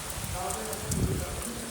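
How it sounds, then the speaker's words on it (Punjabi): Steady heavy rain pours down in a dense, continuous hiss, with faint voices murmuring beneath the downpour. "ਮੀਂਹ ਬਹੁਤ ਤੇਜ਼ ਆ ਗਿਆ"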